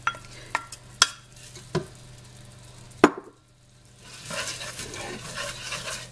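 Washed lentils tipped into a pot for soup and stirred, a few sharp knocks and clatters followed by a soft, spreading sizzle.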